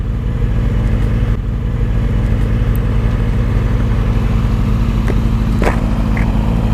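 A 2007 Yamaha R6 sport bike engine runs steadily while being ridden, a loud, continuous mid-pitched drone with slight throttle variation and wind roar throughout.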